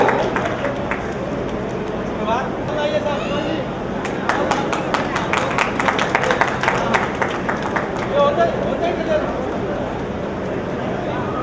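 Audience at a kavi sammelan poetry gathering in Hyderabad claps for a poet, a dense stretch of applause from a crowd mixed with someone speaking over a microphone.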